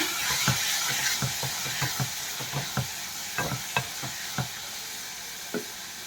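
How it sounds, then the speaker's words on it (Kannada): Chopped tomato frying in a hot tempering with curry leaves for saagu: a steady close sizzle broken by about a dozen sharp scrapes of a spoon stirring the pan, with no voices. "ಟೊಮೆಟೊ ಕೂಡ ಕಟ್ ಮಾಡಿ ಇಟ್ಕೊಂಡಿದ್ದೆ ಇದನ್ನು ಕೂಡ ಒಗ್ಗರಣೆಗೆ ಹಾಕಿ ಸ್ವಲ್ಪ ಫ್ರೈ ಮಾಡ್ಕೊಳ್ತಾ ಇದ್ದೀನಿ"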